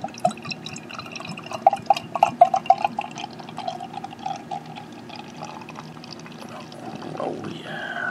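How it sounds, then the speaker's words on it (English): 1840 Brewing Co. triple IPA is poured from the bottle into a glass. It starts with gurgling glugs and splashes, then settles into a steady, close-up stream of liquid filling the glass. "let's get our pour on."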